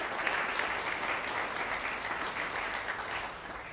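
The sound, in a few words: audience applause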